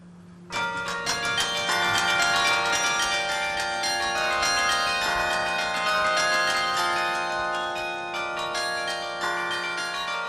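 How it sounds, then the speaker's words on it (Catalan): Carillon bells of 49 bells ring out a continuous melody at the Palau de la Generalitat, many bright overlapping chimes sounding loud and sustained without any voices. "Jo toco el carilló cada dia a les 12 i a les 6 de la tarda"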